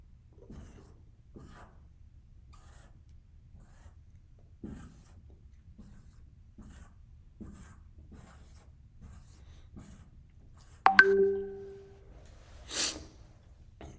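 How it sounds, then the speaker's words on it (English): A pen draws a music note stem on paper in a quiet room, a few faint short scratches spread across the stretch, followed near the end by a louder brief squeak and a rustle. "So I'll draw that stem down."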